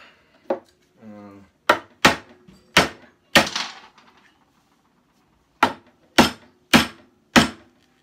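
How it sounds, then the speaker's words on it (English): Sharp hammer blows strike a cracked metal plate, about nine loud hits in two bursts separated by a pause, ringing briefly after each strike. "So I'm gonna try to hammer it somehow"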